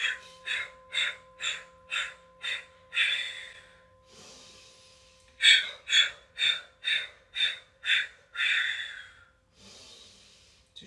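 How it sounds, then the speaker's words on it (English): Slow, audible breaths during a calming yoga practice: a run of six even exhales, a pause, then a second series of about seven rhythmic exhales, close and soft with a faint hum beneath. "Another few breaths. 7 exhales."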